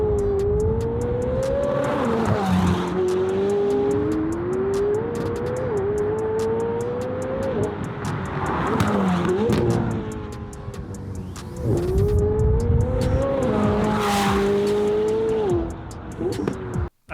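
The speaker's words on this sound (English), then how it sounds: "that's the way a 720S should sound" A McLaren 720S with aftermarket exhaust revs hard through several upshifts, its loud exhaust roaring and rising in pitch, then dipping between gears, heard from inside or close by.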